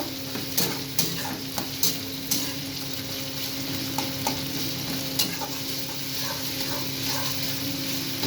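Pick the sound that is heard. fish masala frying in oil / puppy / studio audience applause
fish masala frying in oil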